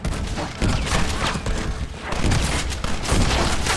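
Red Dead Redemption gunfight: a continuous, heavy fusillade of overlapping rifle and pistol shots at close range, with thumping blasts rising and falling throughout the short stretch.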